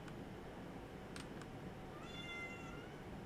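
A pet cat meowing close by, a single drawn-out meow after a couple of short clicks, faint against a low steady background hum.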